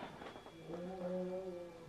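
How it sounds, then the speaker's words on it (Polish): A cat meows in a drawn-out, wavering cry, fairly close, over a quiet background hum. "Kot idzie."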